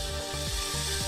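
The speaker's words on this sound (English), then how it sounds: "So let's drill it kind of bore it out." A power drill boring out a plastic part of a Mandalorian Nerf Scout Trooper blaster, producing a steady low motor whir with a repeating rising-and-falling grind in short cycles, close and alone.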